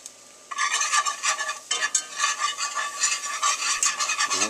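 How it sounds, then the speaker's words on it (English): A whisk scrapes briskly through flour stirred into butter and garlic roux in a pot, making a continuous rhythmic rasping close by after a short quiet start, with no talk. "then I'll whisk that flour in."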